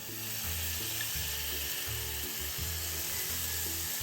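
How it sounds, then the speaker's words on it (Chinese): Dried shrimp sambal stir-fried until the moisture cooks off gives a steady, close sizzle under music, with no talk. "最后再一直拌炒至虾米辣收干"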